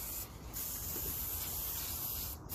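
An aerosol spray hisses steadily and close up onto a Special Forces shovel handle during refinishing, a continuous broad hiss with brief pauses near the start and end, heard alone.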